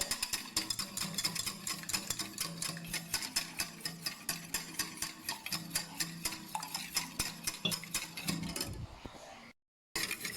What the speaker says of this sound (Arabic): هاد البيضه خصنا نخلطوها مزيان، غادي نخلطوها مع الحليب